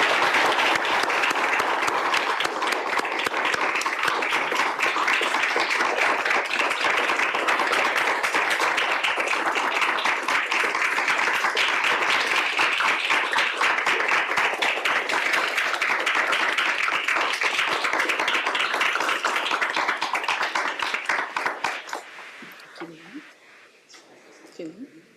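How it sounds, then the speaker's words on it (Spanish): An audience at an evening solidarity lecture breaks into loud, sustained applause for two guests, dense clapping filling the room for over twenty seconds before thinning out and fading near the end. "Les pido un muy fuerte aplauso para Norma y para Uriel"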